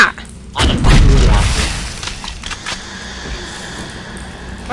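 A single heavy grenade blast booms in the video game Alien Swarm, a loud low rumble that decays into a lingering noisy tail with scattered clatter afterward.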